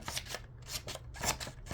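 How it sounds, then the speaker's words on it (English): Small scissors snip in quick, crisp strokes, about five cuts in a row, close and fairly quiet. "and then the spring-loaded scissors"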